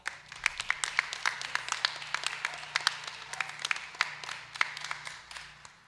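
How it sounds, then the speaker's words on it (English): Applause at a 2025 high school graduate awards ceremony: a modest crowd claps steadily for several seconds with distinct individual claps, fairly close and without talk. "Please give a round of applause for Riley and Gail."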